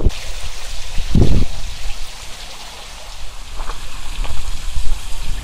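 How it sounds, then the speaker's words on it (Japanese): A river flows past rice fields at Kujukuri in Chiba, a constant broad rushing wash with a few louder splashy bursts, close and steady with no talking. "川が流れています。"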